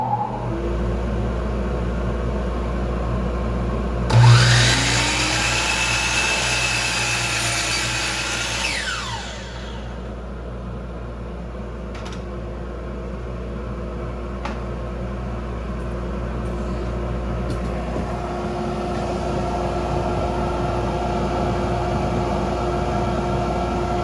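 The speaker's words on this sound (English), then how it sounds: "going to try to demonstrate the effectiveness of the dust collection" A miter saw fitted with a dust collection hood, running over the steady rumble of the dust extractor, gives one loud cut of a few seconds near the start before the blade spins down, leaving only the continuous drone of the extraction.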